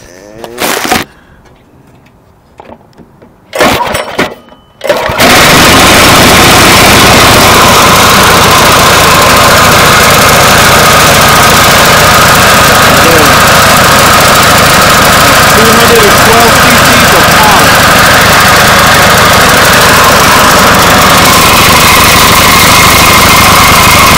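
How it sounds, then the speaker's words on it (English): A modified 212cc pocket bike engine with its governor removed sputters briefly, then fires and settles into a loud, steady, close idle that runs without a break. "The governor is gone, but I'll start it up for you."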